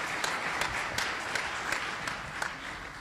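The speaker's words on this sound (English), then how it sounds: "So if you'd all give a round of applause for our panelists" Audience applause after a legislative panel discussion, a steady wash of many hands clapping at moderate volume for three seconds with scattered sharper claps on top.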